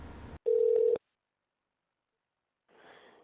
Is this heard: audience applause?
no